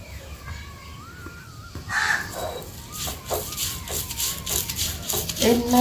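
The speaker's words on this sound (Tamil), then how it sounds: "காக்கா கத்துறான் வேலைங்க" Crows caw repeatedly outdoors in a village kitchen setting, a run of harsh, rasping calls coming in quick succession, fairly close and loud over background ambience with a few other bird chirps.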